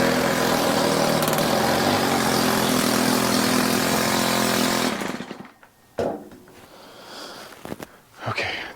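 A Stihl hedge trimmer's small engine roars loudly on choke for about five seconds, then cuts out, followed by a few quieter sputters and handling clatter.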